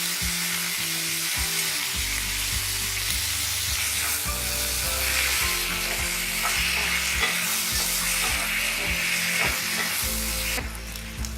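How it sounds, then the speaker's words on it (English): Chopped tomatoes roasting with red chilies in a pan over medium heat give off a steady, close sizzle and frying crackle, broken by a few spatula stirs scraping the pan. "Roast the tomatoes until they become soft."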